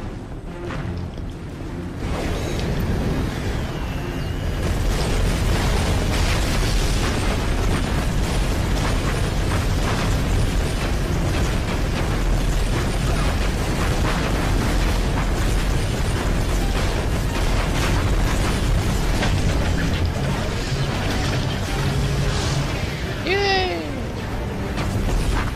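Missile explosions in the Iron Man 2 video game, a continuous loud barrage of booms, bursts and mechanical clatter under game audio, with whooshing streaks near the end and a player's voice speaking over it.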